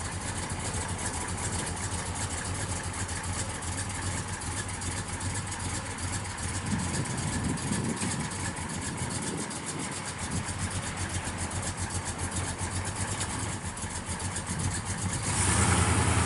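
A 1955 Chevrolet 210 two-door post idles steadily through its exhaust, a continuous low rumble heard up close and alone, with a brief louder swell near the end.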